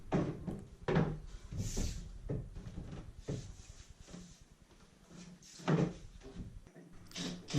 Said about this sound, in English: Now I get the other door and set it on the cleats.